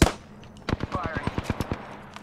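Gunfire in the battle royale game Apex Legends: after a brief opening shot, a rapid run of about ten sharp, evenly spaced reports rings out close and loud, with no talk over it.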